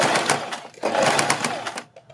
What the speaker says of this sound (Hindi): फिर आप दोनों प्लेटें इस तरह से सेट कर लें ऐसे, और फिर इसके ऊपर सिलाई लगा लें।